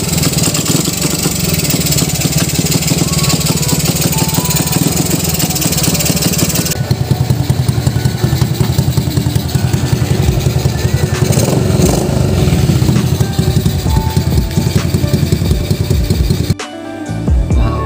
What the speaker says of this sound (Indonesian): Akhirnya motornya hidup normal seperti biasa.